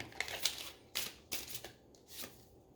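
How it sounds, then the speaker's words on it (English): Tarot cards shuffled by hand in a few quick riffling bursts, close and crisp, with brief pauses between them. "just give one last shuffle"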